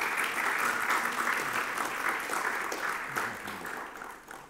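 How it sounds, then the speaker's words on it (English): An audience at a conference fireside chat with Lord Martin Rees claps in sustained, fairly distant applause that slowly fades. "Give them a warm round of applause."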